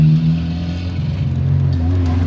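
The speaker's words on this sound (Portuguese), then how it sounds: "O carro é turbo, molecada," A turbocharged car's engine drones and rises in a low, steady hum for a couple of seconds, heard from close by with no talking.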